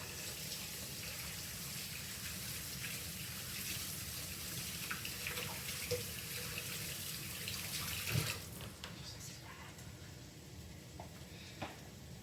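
Hands washed under a running kitchen tap, a steady broadband rush of water into a sink with small splashes and shifts as the hands move, close and continuous, with the flow changing near the end.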